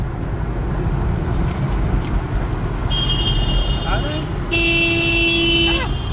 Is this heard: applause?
no